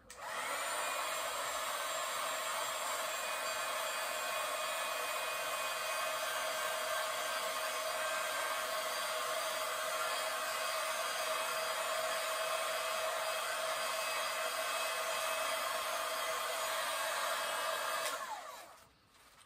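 A hair dryer blows steadily and loudly while drying a handmade Christmas card, a constant whooshing roar that runs unbroken for most of the time before cutting off abruptly near the end.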